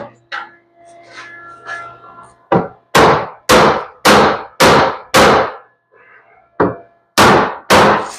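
Eight loud, sharp metallic hammer blows ring out in a steady rhythm on a part of a 1979 work truck, following some quiet clinking and faint background noise at the start.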